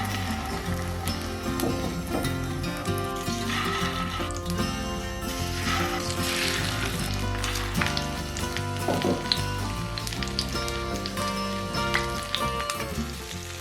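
Steady sizzling of flour- and egg-coated fish frying in hot sunflower oil, a dense continuous crackle with occasional louder pops, close up, mixed with faint clattering and background sound.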